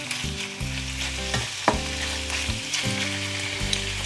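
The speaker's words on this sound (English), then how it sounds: "So I'll stir it a bit." Chicken sauce frying in a single pan gives a soft, steady sizzle, with a spoon scraping and clinking against the pan as it is stirred. A sharp knock sounds near the middle.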